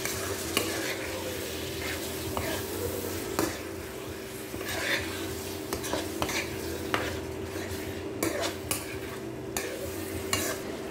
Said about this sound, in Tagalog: Gisa natin muna yung sahog natin.